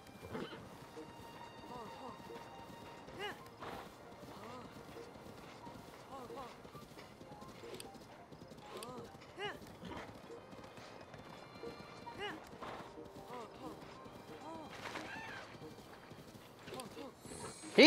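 Horse hooves clip-clop in a galloping rhythm in a video game, with occasional whinnies, while a voice talks over the steady hoofbeats.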